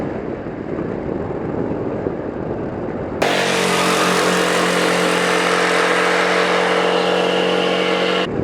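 A Honda Forza 250cc single-cylinder scooter engine drones steadily under load climbing uphill at about 5000 rpm, loud and close, its pitch holding high and even after a sudden jump in volume.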